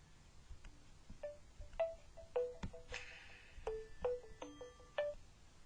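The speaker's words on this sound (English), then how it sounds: "Sorry about that, just had a phone call." A phone rings with a series of short electronic tones in an irregular pattern, fairly faint against a quiet room, with no talk.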